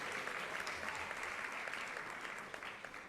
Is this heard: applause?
yes